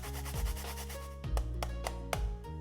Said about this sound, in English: Next, I'm gonna grate in 6 grams of ginger.